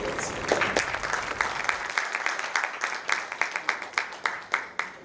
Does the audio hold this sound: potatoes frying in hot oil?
no